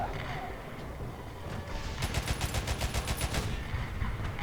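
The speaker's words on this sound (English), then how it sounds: "Might as well throw some arty." Artillery barrage in War Thunder, a British Mark IV (A13) Mk.1 light tank match: a rapid run of sharp, closely spaced blasts over continuous battle rumble, loud and dense for about a second and a half before settling back into engine noise.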